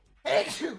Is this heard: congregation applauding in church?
no